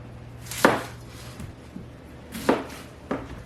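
A knife chops through a red onion on a cutting board, with three distinct sharp thuds spaced unevenly, close by, under a quiet background hum.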